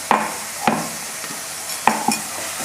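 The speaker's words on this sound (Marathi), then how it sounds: "आता हे ठेचा चांगला असं मिक्स करून घ्यायचा।" Spicy fenugreek and chili paste being mixed in a pan, a few sharp utensil scrapes and clinks against metal over a soft sizzle, no voices.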